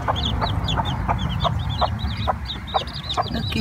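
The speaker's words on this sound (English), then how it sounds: "Mama Hen is already teaching her babies how to find food." A mother hen clucks in a steady, repeated rhythm to her chicks, with soft high chick peeps scattered over a constant low background hum.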